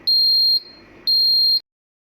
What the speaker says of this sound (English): You should hear beeping sound from the controller's buzzer.